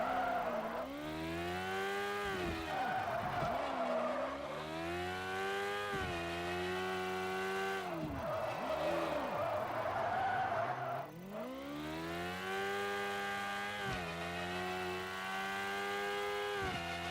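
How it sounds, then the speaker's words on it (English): A drift car skids and revs continuously, its engine pitch rising and falling in repeated sweeps as the tires squeal through long slides, loud and sustained with no pauses. "Joke's on you, this is actually our drift car."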